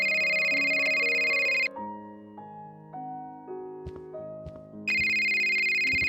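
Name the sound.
phone ringtone ringing, from a video game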